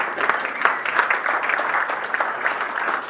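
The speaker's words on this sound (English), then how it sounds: "Peg, let's give her a round of applause" A room of Rotary club members applauds their meeting greeter, a steady, dense patter of many hands clapping at moderate distance that fills the whole stretch without a break.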